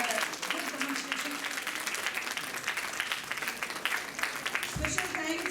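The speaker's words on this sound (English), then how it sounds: "big round of applause." Applause from the audience at a school National Science Day event after a student demonstration, steady dense clapping from a crowd lasting throughout, with voices faintly mixed in underneath.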